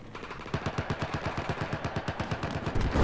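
Machine gun fire in the video game Battlefield 4 rattles off as a loud, rapid, evenly spaced stream of shots that keeps going for about three seconds.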